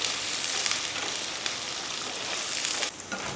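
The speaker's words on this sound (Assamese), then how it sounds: "এতিয়া এইখিনি অকণমান ৰঙচুৱা হোৱাকৈ ভাজি লওঁ" Onion sizzling with garlic ginger paste, bay leaf, chilli, cloves, cardamom and cinnamon in hot oil for a local chicken curry, a steady close frying hiss that runs unbroken and drops slightly near the end.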